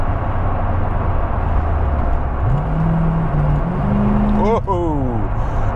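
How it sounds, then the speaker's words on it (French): A 1985 Chevrolet Corvette C4 kicks down and accelerates hard, its engine note rising in pitch through a steady, loud drone inside the car, with a brief shift midway. "coup d'accélérateur, ça rétrograde, kick down, and boom, ça part."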